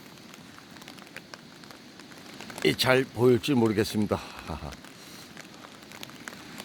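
Rain falls steadily on a rainy day along the upper stretch of a river at Yeonpo in Jeongseon, a soft constant hiss under a man's brief speech and laugh.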